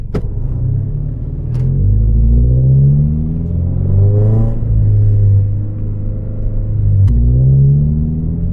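Dodge Hellcat V8 engines rumbling nearby from inside a Toyota GR86, a loud, deep, continuous drone that swells and falls as the throttle rises, with a few sharp clicks on top.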